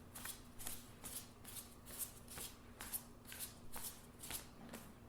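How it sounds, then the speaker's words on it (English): Playing cards are shuffled and handled at a poker table, giving a steady run of soft, crisp riffling flicks in a regular rhythm, close but quiet, against a low background hum with no speech. "So I shuffle the cards, and I'm going to cut them"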